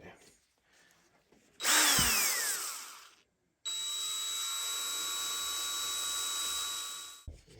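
A power drill spins an oiled cylinder hone inside the bore of a 1973 Yamaha CT3 175 engine cylinder at slow speed, giving a loud whining burst, a pause, then a long steady whirring run that cuts off abruptly.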